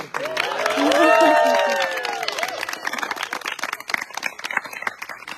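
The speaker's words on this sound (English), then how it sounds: "a quick round of applause to Brandon." Cheering voices rise into a whoop, then a small group breaks into quick close clapping for Brandon at a final tribal council, the claps continuing steadily to the end.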